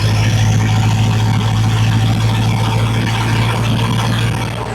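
Inside the cab of a classic Chevy Apache truck fitted with a diesel engine, a loud, steady, low rumbling drone fills the space while driving, with no talking.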